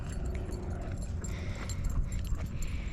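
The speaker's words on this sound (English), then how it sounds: "So there's a puppy here running." A puppy running along an outdoor walking trail gives soft whimpers and small yips amid rustling and outdoor ambience, close by and without talk.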